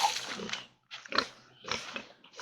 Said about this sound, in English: these are our pigs